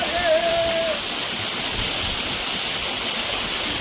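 Flowing water near a temple in Kerala, a loud continuous rushing like a stream or small waterfall, close and unbroken throughout, with a short whistle-like tone at the start.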